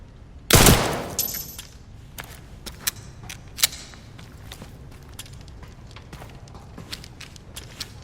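Gunfire in the video game Resident Evil Requiem: a loud, close blast with a long decaying tail, followed by scattered sharp clicks and taps resembling footsteps and handling noises.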